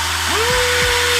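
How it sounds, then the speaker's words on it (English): Power drill boring a hole in a plastic 5-gallon bucket for a self-watering planter; a close, loud motor whine rises in pitch and holds steady, with two short dips as the bit bites. "I'm gonna just go ahead and drill"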